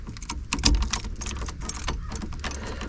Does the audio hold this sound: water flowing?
no